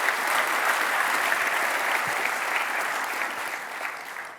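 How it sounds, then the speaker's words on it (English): An audience at a live talk event bursts into steady, close applause that holds evenly and then tapers off slightly toward the end. "you guys want to clap a little?"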